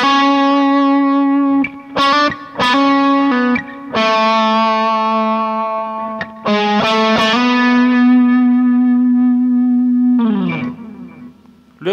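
Electric guitar with distortion and chorus plays a slow intro solo line of sustained single notes, with quick hammer-on and picked flurries between long held tones.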